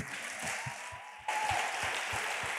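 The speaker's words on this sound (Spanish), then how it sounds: "este aplauso es para ti" Church congregation applauding during a service, a steady wash of clapping that jumps louder partway through and continues to the end, with no voices standing out.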